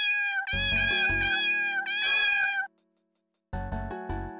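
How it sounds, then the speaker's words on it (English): Cat meows in the video game The Gray Garden, two drawn-out tonal calls, a short silence, then a clipped jingle of game sounds, loud and clear with no talking. "Oh, a cat!"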